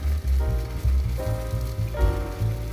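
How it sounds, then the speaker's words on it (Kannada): A mixer grinder in a home kitchen grinds coconut for South Indian chutney, a loud, steady mechanical churn with a whining motor tone and pulsing low rumble, running continuously with no voices. "ನೋಡಿರಿ ನಾನು ಮಿಕ್ಸಿ ಮಾಡ್ಕೋತಾ ಇದ್ದೀನಿ"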